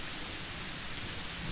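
Heavy monsoon rain pours down steadily on a stormy night, a dense, even hiss of rain with a low rumble of thunder underneath and no break in the downpour.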